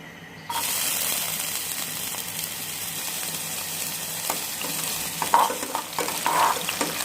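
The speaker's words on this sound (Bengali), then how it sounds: "পেঁয়াজটা আমি দুই থেকে তিন মিনিট একটু ভাজা ভাজা করে নিচ্ছি" Three small onions drop into hot soybean oil and burst into a loud, sudden sizzle that carries on steadily, close up, with stirring scrapes and crackles.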